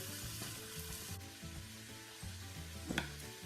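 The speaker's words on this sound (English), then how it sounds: "once these start sauteing, we can give them a little stir and they can just work" Vegetables for a hearty minestrone sautéing in a pot over medium-high heat give a soft, steady sizzle with faint bubbling and one brief stir near the end, quiet and without talk.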